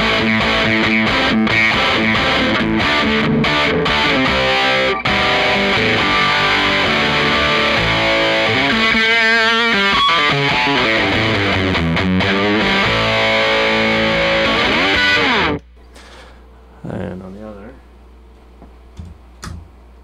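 An electric guitar played through a modded Boss DS-1 distortion pedal with the distortion turned all the way up gives loud, buzzing, sustained notes and chords. It cuts off abruptly after about fifteen seconds, leaving faint scattered handling noises.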